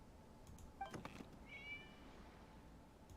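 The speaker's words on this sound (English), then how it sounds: "It was just a cat." A cat meows in the video game Genshin Impact, one or two short, fairly clear mews heard alone against a quiet game background.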